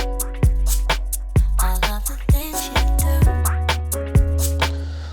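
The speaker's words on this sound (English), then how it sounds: "Pretty basic 808 bass playing a very simple melody at a very simple rhythm." Electronic beat with a deep 808 bass line playing a simple melody in a plain rhythm under crisp drum hits, loud and close with no voices.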